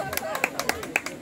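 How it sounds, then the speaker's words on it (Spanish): Scattered audience clapping at a swimsuit show, a handful of sharp separate claps in an uneven rhythm, fairly faint, with a voice talking over it. "El aplauso también, por supuesto, de todo el público."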